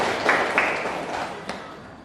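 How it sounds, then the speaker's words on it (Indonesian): Classroom clapping for a student: a dense, steady patter of many hands with a few sharper individual claps standing out, moderately loud and continuous for about two seconds. "Oke, tepuk tangan buat Titian."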